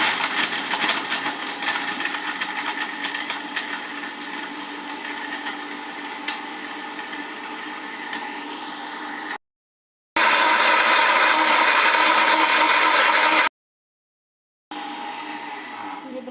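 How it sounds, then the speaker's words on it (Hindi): An electric kitchen blender whirs loudly and steadily while blending a banana milkshake. The motor runs as a dense, even roar that cuts out twice for short pauses before starting again. "तो अब कर लेते हैं इसे ब्लेंडर।"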